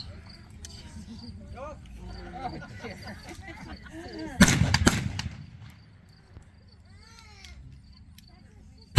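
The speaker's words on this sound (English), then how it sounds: "He will now use his 1873 Colt Peacemaker pistols and present his signature" Gunshots from 1873 Colt Peacemaker pistols at a Buffalo Bill Wild West show: a sharp cluster of loud cracks bursts out midway over a murmuring outdoor crowd, then fades back into chatter and ambient noise.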